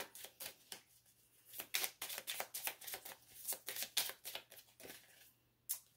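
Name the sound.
shuffling and drawing oracle cards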